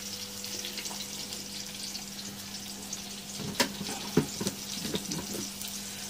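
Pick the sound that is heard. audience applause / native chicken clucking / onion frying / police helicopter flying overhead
onion frying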